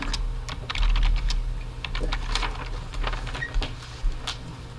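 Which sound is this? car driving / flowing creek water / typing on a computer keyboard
typing on a computer keyboard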